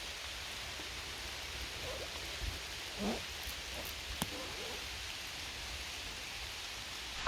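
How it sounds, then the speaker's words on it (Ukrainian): Rain falls in a forest, a soft, steady hiss of drops heard at some distance, with a few faint scattered knocks and rustles and no speech. "Ну все, друзі, не скінчається дощ."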